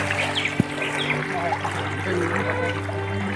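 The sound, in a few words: fast-flowing floodwater in village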